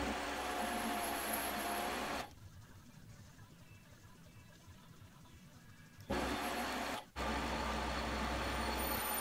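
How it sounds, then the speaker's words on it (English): A lathe parting off a bearing, a loud broadband cutting hiss with motor hum that drops away to a quieter whir for several seconds, then returns loudly with a brief break near the end. "So I'm just parting off the first bearing."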